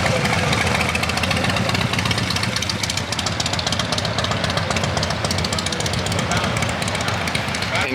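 Several motorcycles roll in at a bike meet in Bogota, their engines idling and rumbling steadily and loudly at close range, a dense continuous mechanical drone with some knocking texture and no audible talk.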